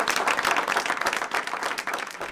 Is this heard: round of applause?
yes